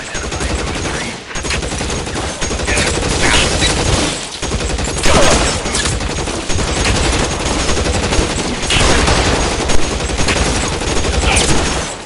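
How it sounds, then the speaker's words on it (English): Sustained gunfire in the L.A. Noire video game during a police shootout on North Las Palmas, with dense overlapping shots and rapid volleys in a loud continuous barrage that barely lets up. "Shots fired and officers need help at 1452 North Las Palmas"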